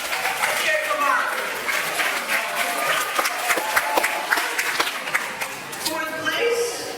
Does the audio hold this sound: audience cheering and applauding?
yes